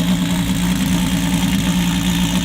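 A twin-turbo V12 Ferrari engine runs at a steady, loud idle up close, giving a deep, even drone with a constant rumble and no voices.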